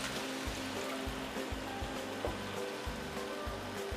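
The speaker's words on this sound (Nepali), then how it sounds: "अब फेरि थोरै पानी राखौँ" A little water is poured into a simmering jackfruit curry, a faint, soft splashing trickle with a gently pulsing flow, heard quietly with no voices.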